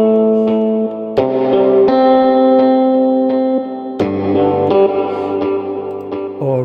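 A clean electric guitar through a Lush Clean amp preset plays ringing chords and picked notes with a lush, shimmering, echoing tone, no one speaking.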